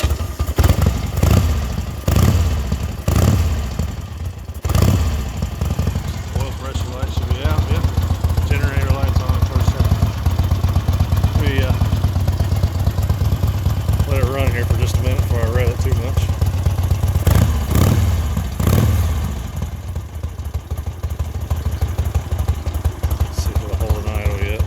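A 1976 Harley-Davidson Ironhead XLH Sportster 1000cc starts up with several loud cranking thumps, then settles into a lumpy, loping idle with a couple of throttle blips, and a voice talks over it briefly.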